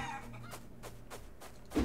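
Chicken clucking in the video game Hardland: a few short, soft clucks over a low steady hum, ending in a brief louder thump.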